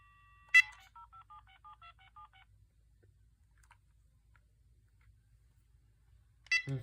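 A quick run of touch-tone dialing beeps from an old AT&T 9410 cordless phone, about eight short tones in a steady rhythm with no pause, bracketed by louder clicks or beeps at the start and end.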